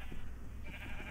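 Minecraft sheep on a sheep farm, a faint bleating over a low steady hum, brief and alone.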